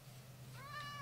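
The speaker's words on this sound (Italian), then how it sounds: "Un gatto nero che mangia un fungo?" A Minecraft cat, a black cat, gives a single rising meow that stands out clearly over a steady low background hum.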